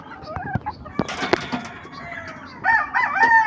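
Backyard roosters and chickens at a breeding pen, with crowing calls rising near the start and again loudly at the end, mixed with clucks and sharp knocks throughout.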